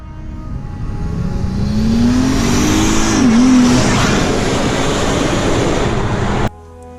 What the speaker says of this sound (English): You step on it, it spools up, you hear it like the whine